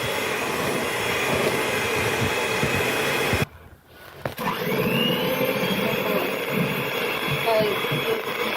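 An electric beater whips eggs and sugar until fluffy, a steady loud motor whir that cuts out briefly for under a second, then resumes with a slightly shifted tone.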